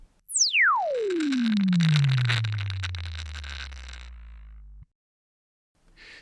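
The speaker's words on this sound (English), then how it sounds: "And here's the speaker with transient distortion." A loud sine sweep through a speaker glides from very high to very low pitch, with crackling, buzzing distortion from a loose solder bead trapped in the voice coil gap midway before it cuts off abruptly.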